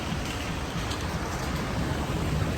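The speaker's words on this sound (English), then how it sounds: "Right now it is raining heavily." Heavy rain pours steadily in St. Elizabeth, Jamaica, a dense, even hiss of drops filling the whole stretch at close range with no break or letup.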